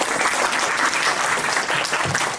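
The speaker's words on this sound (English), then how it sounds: "A big round of applause for all of us" An audience at a scholarship panel discussion in Delhi gives a loud round of applause, dense continuous clapping close up from many people throughout.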